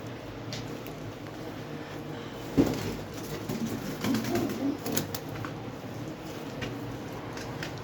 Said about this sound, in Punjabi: ਆਹ ਕਬੂਤਰ ਬਾਈ